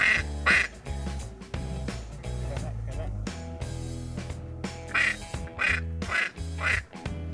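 A mallard duck call blown with a rolled R to imitate the grunting of diving ducks, in short quacking bursts and rolling notes, close and fairly loud.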